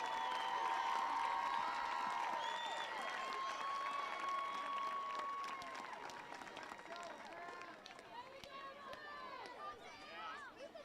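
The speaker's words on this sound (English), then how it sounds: "please give a big round of applause for our homecoming court." A crowd at a high school homecoming football game applauds and cheers steadily, the clapping a dense wash that gradually fades, with a voice and some tonal sounds over it.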